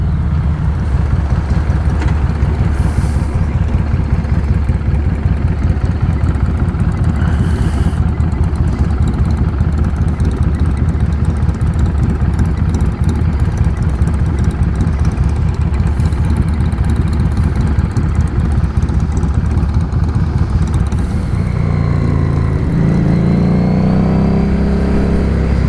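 A 2017 Harley-Davidson Street 500 motorcycle rumbles steadily while being ridden, its engine a constant close drone with wind noise, and a brief pitch change near the end.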